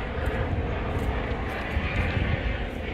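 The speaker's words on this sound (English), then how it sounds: "there's a helicopter this time" A helicopter flies overhead, a steady low, rumbling engine drone that holds for a few seconds, moderately loud and a little distant, with no talking.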